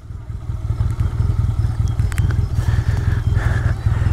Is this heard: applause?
no